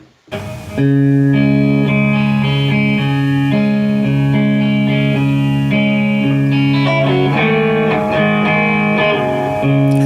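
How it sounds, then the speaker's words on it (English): A clean electric guitar plays sustained, ringing chords with a dreamy, spacey tone, steady and loud with no distortion. "Just a guitar, clean, no distortion."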